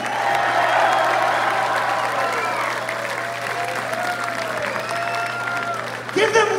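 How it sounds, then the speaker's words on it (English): A metal concert crowd in a Denver theatre applauds and cheers, a broad sustained wash of clapping with shouts and whistles, a low amplifier hum underneath, fading near the end. "Give security a round of applause"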